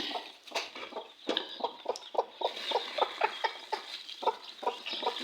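Baby chickens peep in quick, high, repeated chirps that overlap into a busy, steady chorus, fairly close and without talk.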